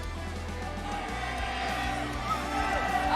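A crowd at an MPL esports match cheers and roars continuously in a large arena, a dense sustained wash of voices with a low hum beneath.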